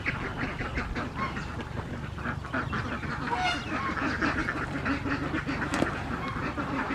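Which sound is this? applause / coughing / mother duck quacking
mother duck quacking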